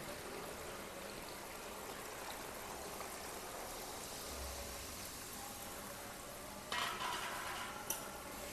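Water poured into a pan of frying chicken curry masala gives a steady, broad sizzling hiss that runs throughout, with a brief louder burst of spattering near the end, close by and with no voices.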